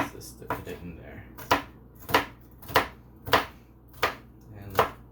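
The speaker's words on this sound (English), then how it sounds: "I slice them into really tiny pieces to put it in there." A knife chops jalapeno into tiny pieces on a cutting board, producing a series of about eight crisp, evenly spaced thuds close up, with a faint background hum.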